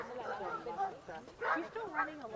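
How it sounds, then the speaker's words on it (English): Little puppies, about three months old, yipping and barking in short bursts, fairly faint, mixed with people talking and cooing nearby. "we get to see some little puppies"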